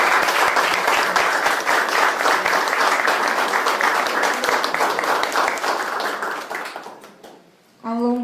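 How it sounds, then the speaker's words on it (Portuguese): Sustained applause from a large crowd at a Canção Nova community assembly, dense steady clapping that fades out near the end before a voice begins speaking. "Podemos até aplaudi-los, não é verdade?"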